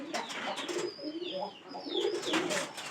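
Domestic pigeons coo softly and continuously in a low, rolling murmur near a female pigeon in a pigeon keeper's loft, with no voices over it.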